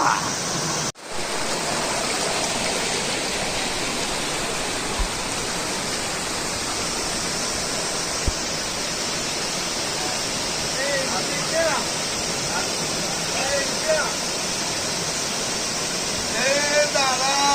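A steady, full roar of falling water, unbroken throughout, with faint voices surfacing near the end.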